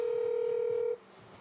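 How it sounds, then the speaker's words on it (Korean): A single steady telephone dial tone or keypad beep holds loud and even for just under a second late at night, then cuts off to a quiet, low hum. "누군가에게 전화를 거는데요"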